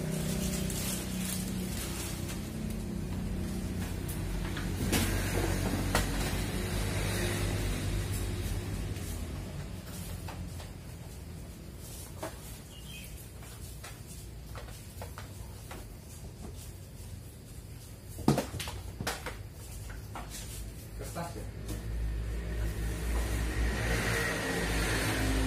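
A Kyocera M2040dn laser printer powering on for the first time, giving a low steady mechanical hum and whir with occasional clicks and knocks, fairly quiet and with no talking.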